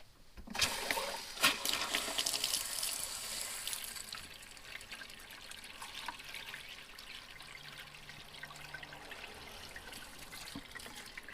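A kitchen sink tap in an RV running pink antifreeze into the drain, a steady close splashing trickle that starts loud and settles into a softer, continuous flow, no talking.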